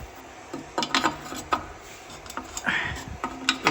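A ratchet works at a tight sensor on a BMW, a close run of clicks in short irregular bursts with brief pauses between strokes.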